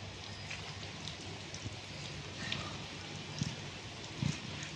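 Steady rain falls in a residential setting with rooftops nearby, a soft continuous hiss with a few faint drips and thuds, fairly quiet throughout.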